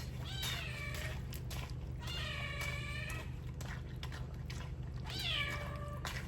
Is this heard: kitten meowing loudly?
yes